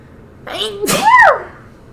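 A single close, loud sneeze with a quick breathy intake before the explosive burst, then silence.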